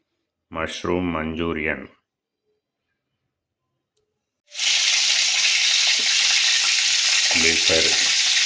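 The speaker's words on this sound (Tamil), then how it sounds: "டீப் ஃப்ரை பண்ணதை இப்போ பொறுமையாக கொஞ்சம் கொஞ்சமாக தான் போட்டு டீப் ஃப்ரை பண்ண போகிறோம்." Marinated mushrooms going into hot oil for deep frying, a loud, steady broadband sizzle that starts after a short pause and continues, with a brief stretch of talk at the start and a few faint voice sounds over the frying.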